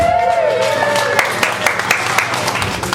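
A full-house audience at a live evening show applauds and cheers a guest, brisk clapping with scattered sharp claps and a whistle or voice rising over it, steady and close for a few seconds.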